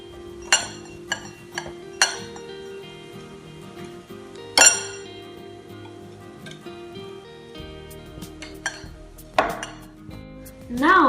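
A spoon or whisk knocks against a bowl as ghee and sugar are mixed for crisp cookie dough, scattered sharp clinks and taps spread over a low steady hum, with no talking.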